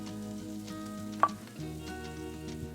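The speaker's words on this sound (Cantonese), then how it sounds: "輕輕你煎一煎佢。" Seafood noodles and pork pan-frying in oil in a wok, a soft steady sizzle with a brief sharp clink partway through, no voices.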